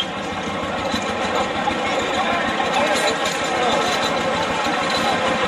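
An old farm tractor engine runs steadily nearby with a continuous mechanical clatter and hum, loud and even throughout with no change in speed.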